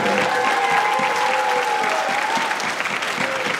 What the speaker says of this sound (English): let's give up Maggie, our president, a round of applause too for all the hard work that she did